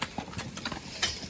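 Horses' hooves clip-clop in a steady, uneven rhythm during a logging job, a handful of hoof strikes at moderate distance over faint background noise, with no voices.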